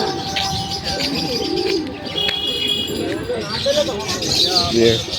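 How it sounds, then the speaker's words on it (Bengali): Pigeons coo and chirp at a busy market amid crowd noise, their calls repeating through the background while a person talks nearby. "এই দেখো সব পায়রা"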